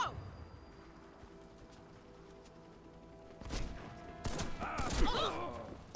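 Gunfire in the shooter Warface rings out over a low background rumble, first faint and then a sudden cluster of loud, sharp bursts near the end, with a voice speaking partway through.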